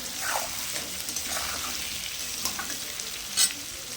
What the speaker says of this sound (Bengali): এবার নুন হলুদ দিয়ে আলুটাকে আমি একটু লাল লাল করে ভাজতে থাকবো